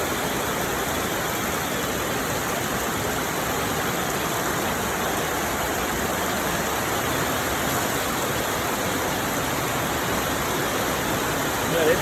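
Steady rain falls over the countryside of Kandal province, a dense, even wash of broadband hiss that holds at one level for the whole stretch, with no voices and no breaks.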